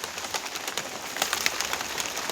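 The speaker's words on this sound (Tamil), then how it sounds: "கரெக்டாக மழை பெஞ்சிருச்சு." Steady rain patters down outdoors over a banana plantation, a dense hiss of drops with scattered sharper taps and a few faint bird chirps.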